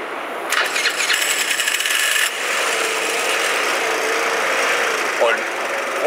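A motor scooter engine fires up and settles into a steady idle on a street with passing traffic, close and fairly loud, with a higher buzzing start before the smoother running sound.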